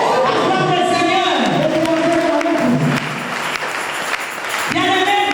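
A church congregation applauding, a loud sustained round of clapping mixed with voices and singing, continuous across the whole stretch.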